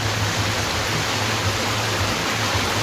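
Rain pours steadily over Gandhinagar, a dense, even hiss that never lets up, with a low hum underneath.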